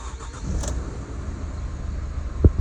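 A Holden Colorado RG pickup with a newly fitted starter motor cranks and fires into a strong, quick start, the bonnet open, giving a steady mid-level engine rumble with a brief louder bump near the end.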